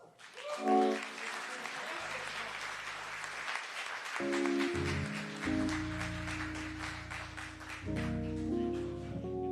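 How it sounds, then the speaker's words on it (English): Applause from an audience, steady clapping throughout with music playing underneath. "give Lamont another round of applause"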